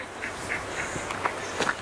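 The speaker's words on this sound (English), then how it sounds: "You got yelled at by the mum duck." An alarmed mother duck gives a few short, scattered quacks at a distance along a lakeside track in Nelson Lakes National Park, faint against steady outdoor wind and rustle.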